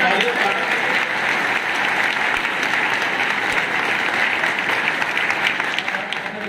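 Steady, loud applause from a crowd at a school award ceremony, continuous hand clapping that holds for several seconds without pause.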